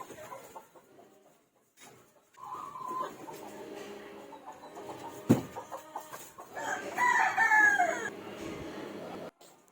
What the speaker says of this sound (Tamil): கோழி எல்லாத்தையும் ஒன்று ஒன்றா வந்து திறந்து விட்டாச்சு.